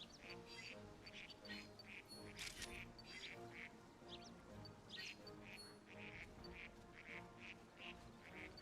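Duck-like Pokémon quacking in the video game New Pokémon Snap: a steady run of short, repeated quacks over soft game background sound, with no talking.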